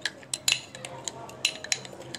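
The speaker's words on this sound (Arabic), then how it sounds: "بتهرس التوم" A metal spoon taps and scrapes against a bowl while mashing garlic cloves into a few spoonfuls of oil, giving soft, irregular clinks and scrapes up close and fairly quiet, with no talking.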